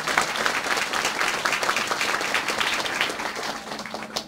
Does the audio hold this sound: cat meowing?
no